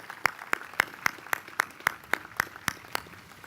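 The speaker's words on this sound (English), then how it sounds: "Could we give Troop 1353 a round of applause?" Steady, evenly spaced hand claps, about ten in a row, sound at a City of Long Beach swearing-in ceremony honoring a Scout troop. They are sharp and fairly close, with little else behind them.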